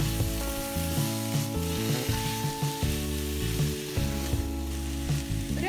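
Kerala-style beef liver roast fries on a low flame, a continuous close sizzle under a steady mid-level hum, with faint intermittent stirring scrapes; no voices.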